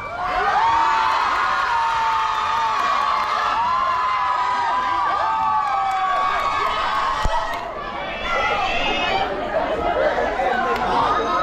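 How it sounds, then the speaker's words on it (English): An audience at a campus fashion show in Mizoram chatters and cheers loudly throughout, with shouts and whoops rising over a dense crowd murmur. "once again, please cheer for your favorites."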